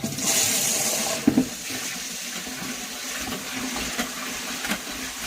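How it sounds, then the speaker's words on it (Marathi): Water sloshes and pours as sorghum grain is rinsed, a loud rushing splash at first that settles into quieter swishing and trickling. "खाली चांगलं 2-3 पाण्याने धुवायची ज्वारी।"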